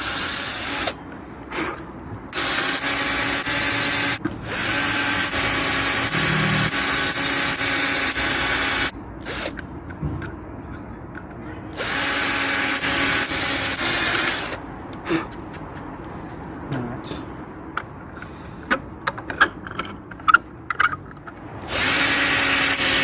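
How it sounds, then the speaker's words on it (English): A power drill bores holes in front panels clamped over a wooden support, running loud and close in long sustained bursts separated by short pauses. "Right, and I can drill into the wood underneath."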